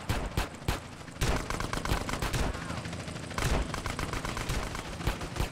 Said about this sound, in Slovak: Ďalší policajti, do nohy ho strieľam.